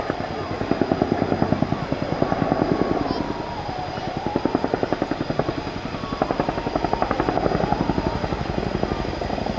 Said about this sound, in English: Giving you the chance chance to really hear the sound of the aircraft.